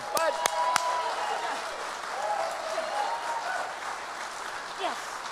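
A memorial audience applauds steadily for the late Bud Buschardt, a sustained wash of clapping from a crowd, with a few voices calling out over it.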